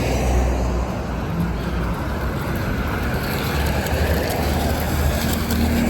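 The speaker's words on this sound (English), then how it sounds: "Big trucks driving around everywhere." Busy street traffic in Kyiv with big trucks passing, a dense continuous low rumble of engines and tyres that stays loud and steady throughout, with no talk.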